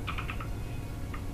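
A short, quick burst of key presses on a computer keyboard, four taps in a row and then one more a moment later, soft against a low background hum.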